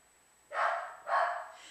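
Two short, muffled dog barks in quick succession, moderately close, over a quiet background with a faint high whine.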